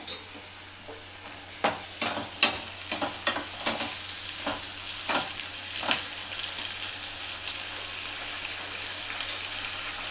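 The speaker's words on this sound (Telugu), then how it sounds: "మంచిగా ఫ్రై కావాలి." Food frying in a pan for an egg pulusu, with a steady sizzle under repeated scraping stirs of a spoon through the oil, louder strokes clustered early then settling into continuous hiss.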